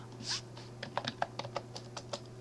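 Spacebar on a computer keyboard pressed repeatedly during drafting work in AutoCAD, giving a quick run of close, light plastic key clicks over a steady low electrical hum.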